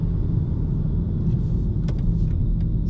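Steady low rumble of a 2024 BMW X1 M35i engine at low RPM with a faint diesel-like rattle, a subdued, even drone heard from inside the cabin with a few light clicks.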